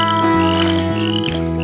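Frog croaks sound through a kids' lullaby, set over sustained, steadily shifting musical tones that play continuously and loudly.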